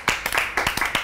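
A few people clapping at a talk show session, sparse and uneven handclaps close by, about a dozen sharp claps in a loose rhythm.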